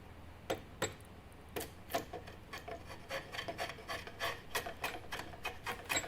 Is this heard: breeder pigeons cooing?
no